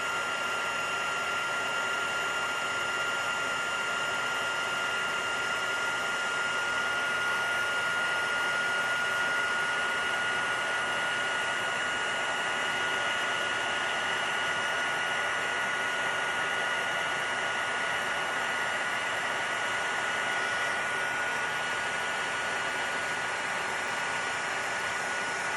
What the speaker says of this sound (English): Okay, let's turn on the heat tool.